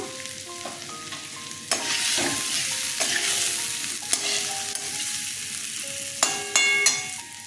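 Potatoes with dried chili powder sizzle steadily in a pan while being stirred, with scraping clatters at intervals and soft background music underneath.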